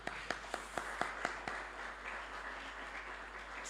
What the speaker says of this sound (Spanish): Y ahora, por favor, vamos a dar un aplauso.